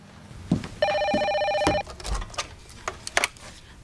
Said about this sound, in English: I wish someone would answer that phone.